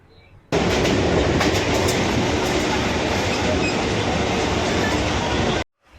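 A commuter train runs steadily on its rails, a loud continuous roar and rumble with faint clatter that starts abruptly and cuts off near the end, with no talking.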